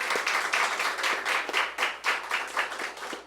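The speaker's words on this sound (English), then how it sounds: "Let's give these guys a round of applause here." An audience applauds at a local community segment honoring the makers of a board game, a steady, moderately faint patter of many hands clapping for a few seconds.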